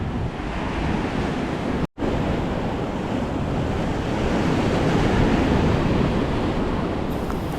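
Ocean surf rolling onto a beach near a lake entrance, a steady, loud wash of breaking waves mixed with wind buffeting the microphone, with one brief cut in the sound.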